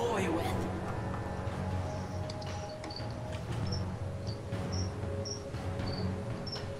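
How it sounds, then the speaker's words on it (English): Cricket chirps in the game League of Legends sound as short, evenly spaced high pips over a steady bed of game ambience and music, with a player talking throughout. "Crickets."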